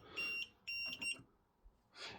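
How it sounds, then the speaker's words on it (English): A caravan fridge in a 2018 Elddis Rambler sounds its fault warning, high electronic beeps in short bursts, one long tone then a broken pair, loud and close with no talking. "this red one here will start to beep, because we're asking it to cool down using a power source that it can't do"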